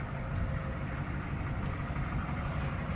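A 1993 Chevrolet Silverado 3500 dually crew cab 4x4 diesel idles, heard from behind at the exhaust side, with a steady low rumble that runs evenly throughout.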